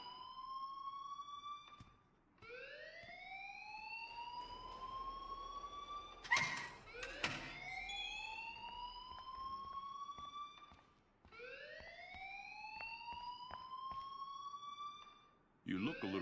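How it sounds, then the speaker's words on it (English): A school alarm in Life is Strange wails in repeated rising electronic sweeps, several cycles in a row with brief gaps, while a voice speaks over it partway through. "please turn off that alarm since that's your job"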